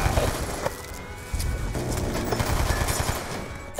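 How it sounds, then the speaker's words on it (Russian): Gunfire aimed at enemy infantry in Call of Duty: Black Ops II, a steady crackle of rifle and machine-gun shots with sharper near reports over constant battle noise, fairly loud. "Ведем огонь по вражеской пехоте."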